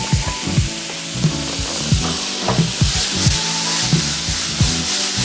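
Onions sizzling and caramelizing in a hot pan, a steady bright hiss with repeated scraping, rubbing strokes of a utensil against the pan surface, close and loud with no talking.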